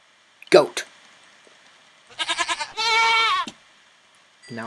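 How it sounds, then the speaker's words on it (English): A goat bleats in a modded video game, a wavering nasal cry that follows a few rapid pulses, heard close and loud, with someone speaking briefly before it. "Goat."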